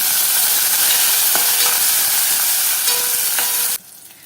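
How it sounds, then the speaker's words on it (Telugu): Ginger garlic paste and green chillies frying in a pan for Telangana rasam: a loud, steady close-up sizzle with faint stirring ticks, cutting off abruptly near the end. "కొంచెం అల్లం వెల్లుల్లి పేస్ట్ వేసుకొని పచ్చివాసన పోయిన వరకు వేయించుకోవాలి"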